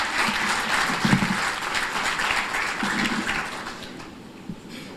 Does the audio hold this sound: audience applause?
yes